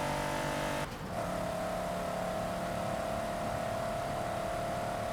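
Race car engine in the Forza racing game, a steady loud sustained drone holding one pitch, briefly dipping near the start, then running constant with no voices.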